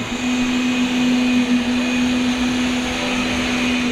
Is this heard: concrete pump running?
yes